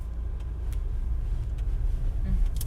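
A 2020 Volvo XC90 T8 Inscription idles low as it creeps forward with no pedals pressed, a steady rumble with faint road noise and a few brief clicks.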